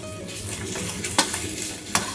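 Pork and mushrooms stir-frying in a wok over medium heat, a steady soft sizzle with a spatula scraping and turning the food, two sharper metallic clacks standing out against the pan.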